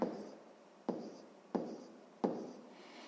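A pen writes on paper in four short scratchy strokes at roughly even intervals, close and quiet, with no talking.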